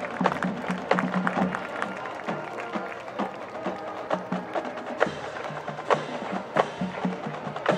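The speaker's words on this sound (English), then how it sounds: "Round of applause, ladies and gentlemen." A crowd at a 2020 high school football game between Westlake and Lutheran West applauds and cheers, a steady wash of scattered claps and voices heard from within the stands.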